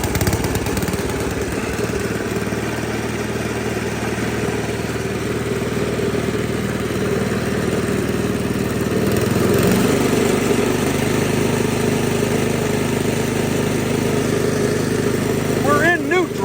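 A Craftsman snow blower's small engine runs steadily and close by, its drone shifting and thickening as the auger is engaged partway through.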